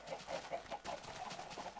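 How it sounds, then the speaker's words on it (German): Chickens clucking in a video game, a quick run of soft, rhythmic clucks and coos, faint and close together, with no voices. "Ja, da sind einiges an Hühner."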